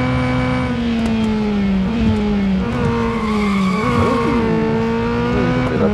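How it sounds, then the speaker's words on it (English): Honda S2000 in the Real Racing 3 video game, its tires squealing in a sustained skid over a steady, loud engine drone, with pitch shifts as the car slides and recovers, no voices. "Ooh, a little bit of skidding"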